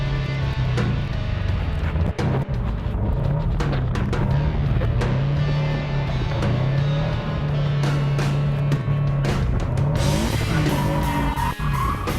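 A drift car spinning donuts on a course, its tires squealing in a long, continuous, wavering screech over a loud, steady engine roar for the whole stretch, with no voices.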